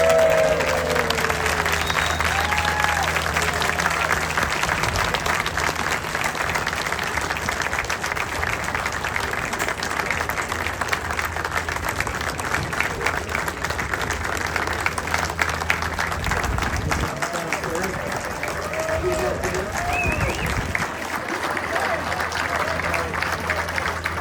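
A crowd applauds steadily and loudly for a Royal Canadian Air Force Snowbirds team at an outdoor event, with continuous clapping mixed with crowd noise and scattered faint voices throughout.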